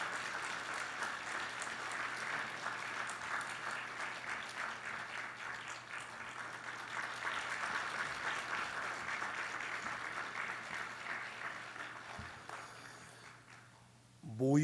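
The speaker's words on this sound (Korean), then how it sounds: "박수 좀 쳐주세요" Congregation applause at a New Year blessing dawn revival service in a church, a steady, fairly faint wash of clapping lasting several seconds before it fades and a voice returns.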